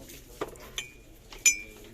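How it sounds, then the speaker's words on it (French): Matte ceramic 300 ml mugs clink against each other a few times as they are handled, giving short, bright ringing knocks that are close and moderately loud, with quiet pauses between them. "Je vais vous montrer ces mugs."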